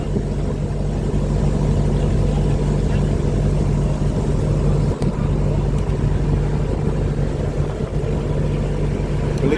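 A motorboat engine runs steadily near a sand bar at Manjuyod, a loud continuous drone throughout with wind noise over it.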